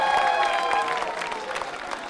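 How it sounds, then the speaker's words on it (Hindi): Audience applause at an accounts officers' quiz show, a steady, dense clapping from a crowd that holds for the whole stretch and tapers slightly toward the end. "तालियां जोरों से बजाइए"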